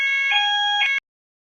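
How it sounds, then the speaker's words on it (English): A building fire alarm sounds during a weekly test, a loud, steady electronic tone with bright harmonics that holds for about a second and then cuts off abruptly into silence. "Oh, sorry, there's a fire alarm here."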